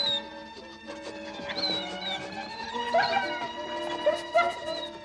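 Trained dogs in a Smurfs cartoon howl and whimper together in long, wavering, drawn-out cries that rise and fall, loud and close, with a musical score underneath.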